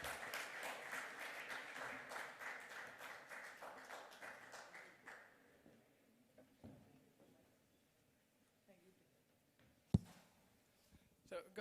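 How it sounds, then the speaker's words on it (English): An audience at a crypto talk breaks into a round of applause, dense clapping that fills the room for several seconds and then thins out to scattered claps and small knocks. "So welcome with me, Mr. Aziz Fatke, with a round of applause."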